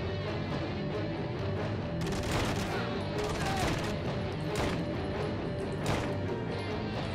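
Gunfire in the game Wanted: Weapons of Fate, rapid bursts of shots and crashing impacts over a steady background, with a few louder volleys spread across several seconds.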